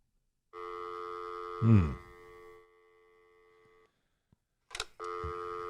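Telephone line tones: a steady ringing tone cuts off, followed by a short burst of dialing beeps before the tone resumes, faint and alone.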